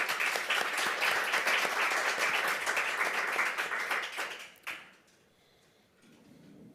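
An audience at a literary event applauds an author, dense and loud clapping that holds steady for several seconds and then quickly dies away into quiet room sound.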